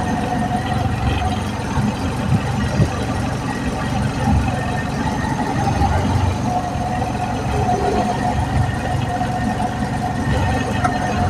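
A Suzuki Carry 1.0 engine runs at a steady idle after a cylinder head repair, a low, continuous mechanical rumble heard close up with a voice talking over it.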